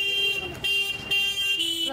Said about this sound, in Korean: 저기 빵빵 소리 해줘.